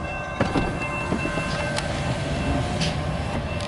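A loaded CSX autorack freight train rolls past southbound, a steady loud rumble of cars with rhythmic wheel clacks and occasional metallic squeals, close and continuous with no talk.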